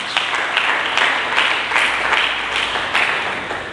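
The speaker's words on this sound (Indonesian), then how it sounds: "Mari kita berikan tepuk tangan bagi Yesus." Loud, steady applause from a church congregation during a sermon about Jesus, dense clapping with slight rhythmic surges, continuous and close throughout with no talking over it.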